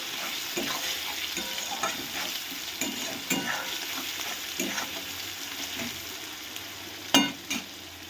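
Chopped onions frying in a pan for chicken kosha, a steady close sizzle with scattered scrapes and taps of a spatula stirring, one sharper clatter near the end.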